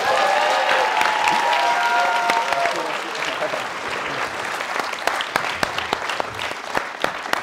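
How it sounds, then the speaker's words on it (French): An audience at a live talk-show taping applauds, a dense close wash of clapping that thins toward the end into scattered sharp individual claps, with faint voices underneath. "Phil, je pense qu'il mérite une autre main d'applaudissement."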